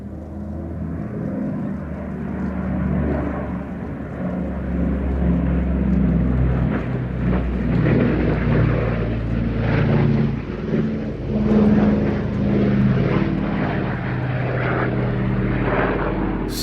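Propeller-driven airplane performing at the Midlands Air Festival, a steady loud engine drone that slowly swells and shifts in pitch as it passes, continuous throughout with no voices.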